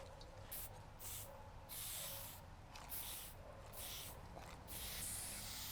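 Spray paint can spraying paint for street art: several bursts of hiss, roughly one to two seconds each and separated by short pauses, fairly faint and close, with no talk.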